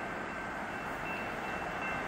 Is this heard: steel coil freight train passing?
yes